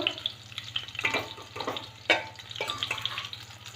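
Soya chunks and paneer fry in hot ghee, a close, continuous sizzle broken by scraping stirs and a brief louder clatter midway.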